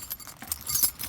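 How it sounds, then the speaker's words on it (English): Car keys jangle and clink as they are pushed into a newly installed ignition switch cylinder, a brief cluster of close metallic rattles. "Just put the keys inside and turn it to AC."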